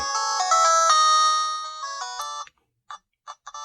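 Mega Man (RockMan) chiptune music and effects playing on an Anbernic RG300x handheld: bright, loud square-wave melody notes for a couple of seconds, then silence broken by a few short, stuttering blips.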